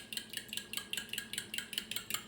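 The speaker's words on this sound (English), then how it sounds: "Okay, we're gonna stir it up." A fork stirs beaten egg mixture for a microwave omelet in a bowl, giving a quick steady run of about ten close clinking taps against the bowl bottom with no talking.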